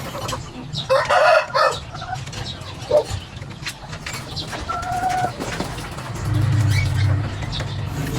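A straight-comb chicken in pain from a comb-trimming wound clucks and squawks intermittently at close range, with short bursts and a few higher calls over a steady background murmur.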